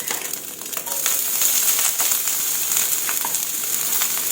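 Bamboo shoots are stir-fried in a hot pan after eggs were cooked and set aside, giving a loud, steady, close sizzle with scraping crackle throughout.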